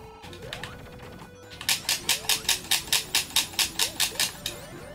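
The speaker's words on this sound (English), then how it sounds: "I send Pico Pico hammers through that wall and hit those ring monitors." Amy's Piko Piko hammer smashing through a wall in Sonic & Knuckles, a rapid series of about fourteen sharp, bright metallic crashes at a steady rhythm, with looping game music underneath.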